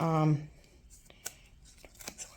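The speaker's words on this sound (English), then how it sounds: "You don't want to use your best scissors on this either because it really kind of mucks them up." Scissors cut through the binding of a theatre program: after a brief voice, a few sharp snips and crunchy cuts come quietly at irregular intervals.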